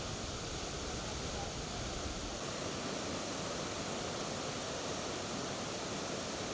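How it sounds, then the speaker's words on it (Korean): Waterfalls in the Kumgang Mountains roar as a dense, steady rush of falling water, loud and continuous without pause. "금강산에 이채로운 폭포 풍경이 펼쳐졌습니다"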